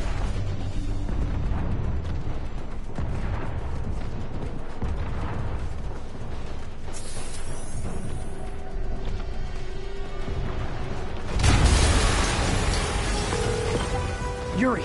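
A loud rumbling explosion erupts partway through a scene in Marvel's Spider-Man, with a dense roar of debris and crackling over steady background noise.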